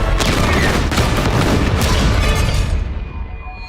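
A bomb detonates in the video game Highguard, a loud sustained blast of booming explosions and crackling gunfire-like bursts that roars steadily before fading out at the end.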